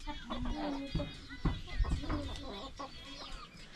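Chickens and a big rooster clucking in a Nepali village yard, a busy run of close, overlapping clucks and short calls with no talking.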